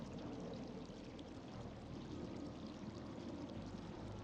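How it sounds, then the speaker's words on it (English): A creek in Rue Valley flows as a steady, soft broadband rush of running water, continuous and even throughout, with no speech. "The creek flows on, untroubled by the worries of the world"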